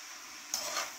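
Pancit noodles are stirred in a pan. A soft, steady hiss runs throughout, and a brief scraping swish near the middle brightens the sizzle for a moment before it settles back.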